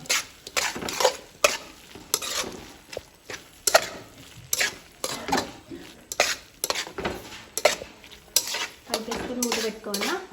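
Chili powder being stirred into a pan of curry pieces on the stove: repeated scraping and clinking strokes of a spoon against the pan in an uneven rhythm, close and fairly loud, with light sizzling underneath and a brief voice near the end.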